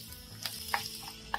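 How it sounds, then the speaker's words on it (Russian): Onion frying in hot vegetable oil in a skillet, a quiet steady sizzle with a few soft stirring scrapes and taps, no voices. "В сковороду наливаем 4 столовые ложки растительного масла. У меня уже разогрелось. И отправляю обжариваться лук."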